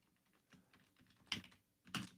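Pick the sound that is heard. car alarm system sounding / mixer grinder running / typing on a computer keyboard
typing on a computer keyboard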